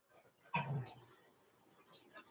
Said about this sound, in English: You guys hear my puppies?